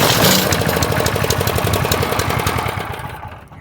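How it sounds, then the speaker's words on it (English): A Honda GX160 small engine runs loudly and close with a fast, even chugging beat, then fades a little toward the end; no talking. "your machine should now fire right up"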